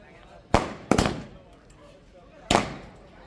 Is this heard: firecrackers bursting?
yes